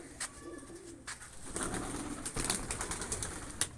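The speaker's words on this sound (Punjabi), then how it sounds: "ਹੁਣ ਬਈ ਕਬੂਤਰ ਛੱਡਣ ਲੱਗੇ ਆ ਜੀ" Pigeons coo softly in short repeated calls, with a few brief flaps and rustles nearby and no talking.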